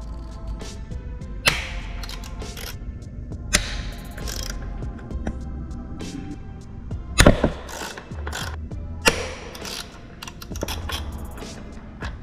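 Ratchet on a 4mm extension loosening velocity stack screws on an Aprilia RSV4, close, rapid clicking bursts in short runs, with sharper knocks of metal parts between them.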